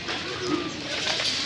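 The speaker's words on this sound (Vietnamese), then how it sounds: "Đây bồ câu nhiều lắm." Pigeons coo softly and repeatedly at a riverside temple shrine, their low, rolling calls steady against a bright outdoor background hiss.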